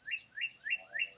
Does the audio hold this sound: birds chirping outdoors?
yes